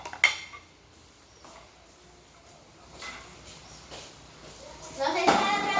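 Dishes and cutlery clink and clatter at a sink as things are washed, a few sharp knocks spread out and a busier rattle with running water near the end, while a person talks nearby.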